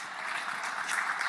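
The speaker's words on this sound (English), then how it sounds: "I think I like a round of applause." A brief, steady patter of audience applause fills a conference hall at an agriculture science week and general assembly, with no voices over it.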